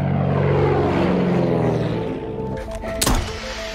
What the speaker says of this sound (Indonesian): Hingga tak lama kemudian datang pesawat ke area itu.